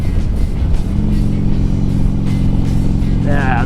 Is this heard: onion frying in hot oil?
no